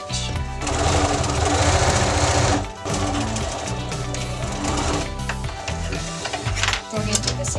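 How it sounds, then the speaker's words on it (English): A sewing machine stitches one side of a fabric pocket together, finishing with a back stitch. It runs as a loud, steady mechanical whir close by, with a brief pause near the middle, then keeps running. "we're only sewing the one side together"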